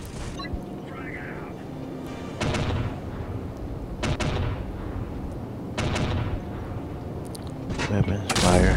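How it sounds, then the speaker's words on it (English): Weapons fire in Call of Duty Heroes, several separate loud blasts spaced a second or two apart over a steady low battlefield rumble, with talk running underneath. "Weapons fire."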